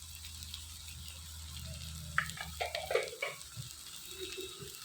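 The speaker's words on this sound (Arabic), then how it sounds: "ونقلب بالكبده بقى مع بعضها كويس قوي" Liver being stirred as it fries in a pan, with a steady low sizzle and a few soft scraping, clinking strokes of the spoon near the close microphone.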